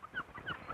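Several short, nasal seagull calls in quick succession, squawking at moderate distance over faint background noise, gulls feeding on small fish washed up on a beach.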